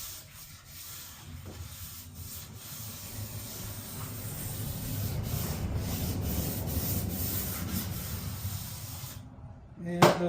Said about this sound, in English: that's pretty much it for sanding